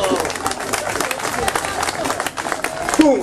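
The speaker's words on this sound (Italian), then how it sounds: "Applauso!" A festival-evening crowd for San Rocco in Valenzano on 14 August applauds in a dense, steady wash of clapping, with cheering and voices mixed in and a louder swell near the end.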